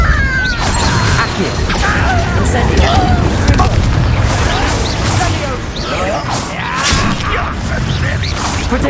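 Depulso spell impacts during a Hogwarts Legacy combat scene: repeated crashing thuds and whooshes in a dense, loud clash of effects, with voices mixed in.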